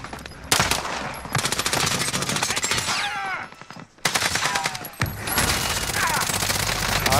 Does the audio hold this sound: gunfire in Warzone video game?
yes